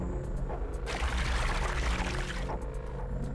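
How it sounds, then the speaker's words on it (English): A tap in the game Zero Time Dilemma pours water in a steady rushing stream that swells for about two seconds, then tapers back to a low background hum. "we got some water flowing"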